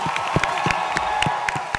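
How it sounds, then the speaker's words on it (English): Applause from an audience at an evening fashion show celebrating textiles and embroidery, a steady wash of clapping with a few louder claps standing out, heard close and without talk. "A huge round of applause to all of you."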